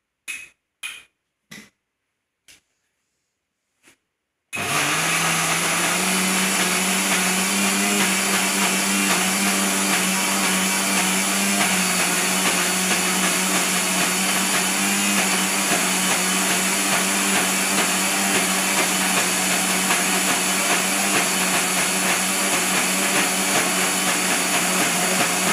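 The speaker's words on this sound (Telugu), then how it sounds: "నేను ఇప్పుడు మిక్సీ వేస్తాను" Electric mixer grinder crushing garlic, starting with a few short pulsed bursts, then running as a loud, steady, continuous whirring grind close by with no talk.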